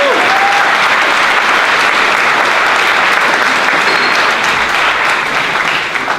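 A big film festival opening-night crowd claps loudly and steadily for several seconds, the ovation easing slightly near the end.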